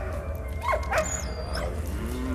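A dog in the World War I video game Valiant Hearts: The Great War gives a few short whimpers and yips over a low steady background hum, fairly close and moderately loud.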